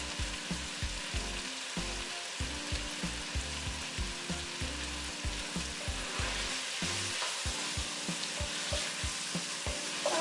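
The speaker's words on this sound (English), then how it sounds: "So we got that sauteing in there, right?" Ingredients for chicken noodle soup sauté in a pot with a steady, dense sizzle and crackle, plus rhythmic low thumps from stirring throughout.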